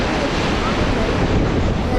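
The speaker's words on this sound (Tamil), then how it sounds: "அந்த மலையிலேருந்து ஐஸ் உருகி வர தண்ணி தான் ஆக்சுவலாக இது" Glacial meltwater river rushing through Solang valley near Manali, a loud, steady broadband roar of churning water that carries on unbroken, with some wind buffeting mixed in and no voices.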